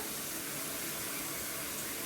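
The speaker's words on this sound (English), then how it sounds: "So fill this up with water" Tap water runs steadily into a big pot as it is filled with about 14 litres for scouring fabric before dyeing, a constant close hiss with no one speaking.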